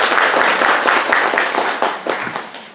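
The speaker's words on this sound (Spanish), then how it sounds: "Démosle un aplauso a la psicóloga Ana Margarita Maldonado Castillo." An audience claps for a psychologist introduced as a guest speaker at a talk about children born in prison, a dense, steady round of applause with individual sharp claps standing out as it begins to thin toward the end.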